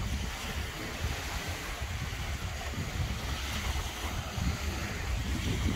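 Sea water breaks against rocks at Praia do Tomé, a beach in Palhoça, Santa Catarina, giving a steady, close wash of surf and splashing with some wind noise and no talk.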